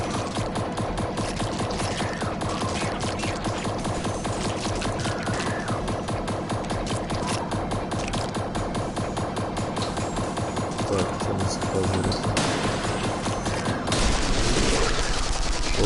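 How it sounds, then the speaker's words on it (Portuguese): Rapid, continuous machine gun fire in the video game It Came from Space and Ate Our Brains, a dense rattling fusillade that runs the whole way through, loud and steady, swelling slightly near the end. "Metralhadora é o que há."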